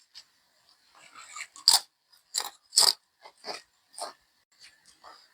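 Crisp, crunchy bites into dry toasted bread, several sharp crunches spaced out, close and fairly loud, with no talking.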